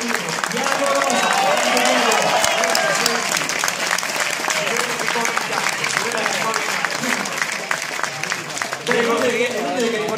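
Sustained, dense applause from a large crowd greeting cyclist Diego Rosa at a race event in Pinerolo, with clapping continuing throughout and a voice talking over it.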